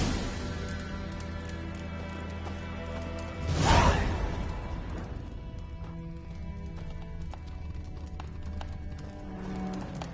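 Roach the horse gallops in The Witcher 3, with quick clip-clop hoofbeats and a loud whooshing swell near the start, followed by steady trotting under game ambience.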